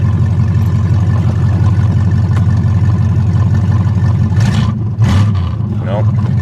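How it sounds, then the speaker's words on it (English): Ford Granada engine running with a rough, steady mid-pitched rumble that builds slightly into a rev near the end, close and continuous, with a couple of brief clunks and a faint voice toward the close. "I'm not going to sit there and rev it too much"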